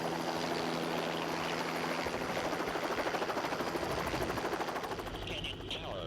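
A Grand Canyon tour helicopter flies along the canyon walls, its rotor thumping steadily and loudly in a dense, continuous throb with engine whine.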